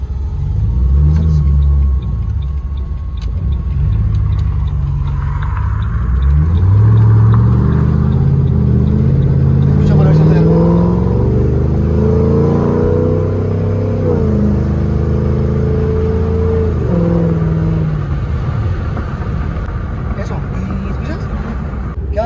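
Ford Mustang engine running on the street with a low, steady rumble that swells and eases, while people talk over it throughout.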